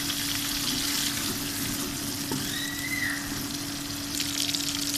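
Sliced onions fry in about one and a half cups of hot oil, giving a continuous even sizzle up close with a faint scrape or two, and no voices.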